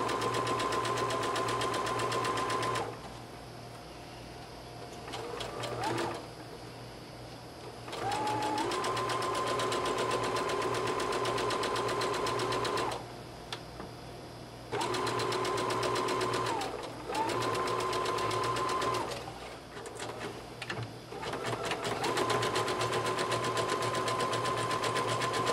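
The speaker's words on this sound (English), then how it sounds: "We're going to stitch that seam at 5/8 inch." A sewing machine in needle-down mode stitches a 5/8 inch seam on a jumper, its motor whirring steadily in several long runs broken by short pauses and brief stop-start bursts.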